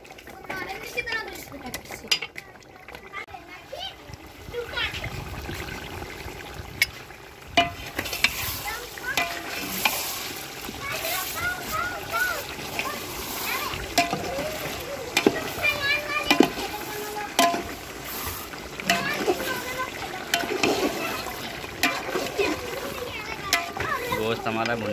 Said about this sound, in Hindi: इसको चला चला के भूनेंगे, इसको अच्छी तरीके से भूनना है